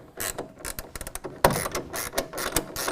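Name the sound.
1/2 inch ratcheting wrench tightening tonneau cover clamp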